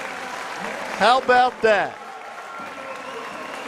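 An arena crowd applauds a new national swimming record at a YMCA national championships, a continuous wash of clapping and cheering under a commentator's brief spoken remark.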